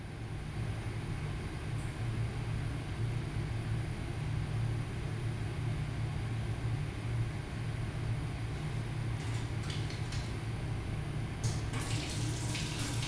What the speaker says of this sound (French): Curer les ongles sous l'eau courante permet d'éliminer rapidement les débris.